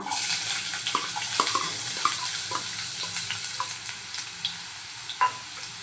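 Finely chopped onion fries in hot oil in a kadhai, producing a steady, hissing sizzle dotted with small crackles and occasional stirring taps.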